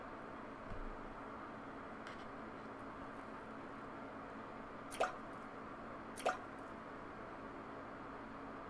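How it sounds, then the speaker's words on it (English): Water drops fall in the video game Manten Aquarium, heard as a few sparse, sharp drips spaced seconds apart over a quiet, hissy ambience. "The sound of falling drops."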